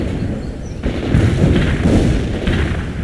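Gunfire and heavy booms rumble in a military video game battle against insurgents, a dense, low, continuous barrage of muffled shots and thuds that grows louder after the first second, with no speech.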